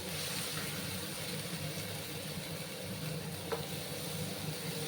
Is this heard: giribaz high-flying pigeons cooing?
no